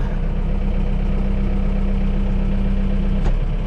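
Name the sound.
machine engine running as operator lifts and throttles up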